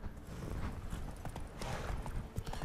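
A horse's hooves clip-clop steadily in The Witcher 3: Blood and Wine, a quiet rhythmic trot of game sound effects with no talking over it.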